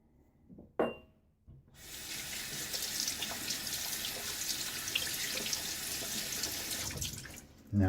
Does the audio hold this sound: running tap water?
yes